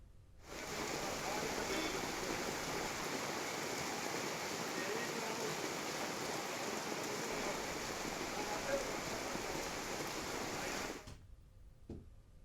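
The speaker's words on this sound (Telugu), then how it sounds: "హైదరాబాద్లో పలు చోట్ల భారీ వర్షం మళ్లీ మొదలైంది." Heavy monsoon rain pours over Hyderabad in a steady, dense hiss that runs for about eleven seconds, then cuts off abruptly, leaving only faint background sound.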